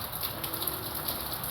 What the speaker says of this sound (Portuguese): E de ontem à noite para cá começou a chover